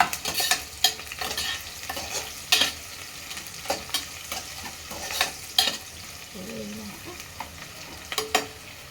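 Chicken biryani masala with onions fries in a pan, sizzling underneath while a spoon scrapes and stirs in a steady stream of sharp clinks and scrapes, close and fairly loud.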